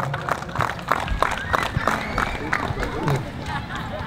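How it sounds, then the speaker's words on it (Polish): A crowd applauds and cheers at a football club team presentation in Sandomierz, with clapping in irregular bursts mixed with crowd babble and a voice talking over it. "Prosimy o brawa."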